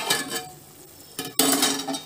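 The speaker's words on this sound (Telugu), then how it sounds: "మూత తీసి చూద్దామండి." A metal lid lifts off a cooking pot of hotel-style drumstick masala curry with two quick clinks and a clatter, followed by a steady bubbling simmer from the open pot.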